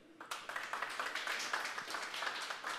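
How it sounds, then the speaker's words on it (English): Audience applause at a tech talk, a dense patter of many hands clapping that starts abruptly and continues steadily, moderately near and without voices over it. "I did not expect applause"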